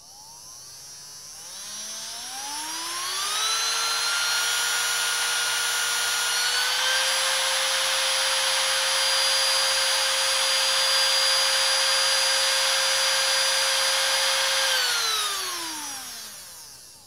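A small DC motor on a 12V 3A PWM speed controller, ramping up from low speed with a rising whine, holding a steady high-pitched hum for about ten seconds, then spinning down as the pitch falls.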